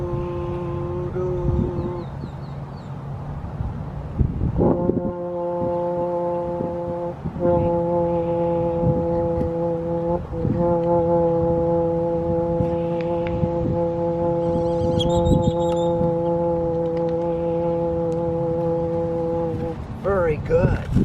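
A trombone sustains long, steady notes, each restarted with a tongued attack in a slow repeating pattern, while a teacher talks over parts of the playing.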